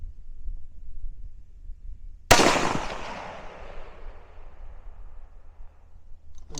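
A single sharp 6ARC rifle shot with Berger VLD bullets, fired at a 5-inch steel target hung from a fire hose; a loud crack followed by a long rolling echo that fades over several seconds outdoors.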